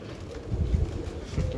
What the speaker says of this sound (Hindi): ये इमामदीन कबूतर है